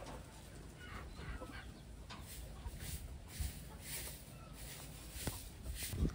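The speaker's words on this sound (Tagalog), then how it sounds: "So ito yung pangatlong ibon natin, cock." Taiwan-breed cock of fair size at a poultry farm, clucking in soft, scattered calls at moderate distance, with background noise and occasional nearby handling sounds.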